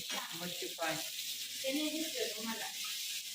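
Vegetable curry frying in a pan on low gas, giving a steady soft sizzle under people talking close by.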